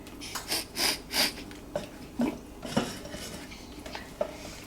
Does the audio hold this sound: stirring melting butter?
yes